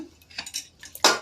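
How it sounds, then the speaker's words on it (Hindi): A metal lid set onto a pressure cooker in a village kitchen: a few light clinks of metal, then one sharper, louder clank at the end, close and without talk. "मैं ढक्कन लगा देती हूँ"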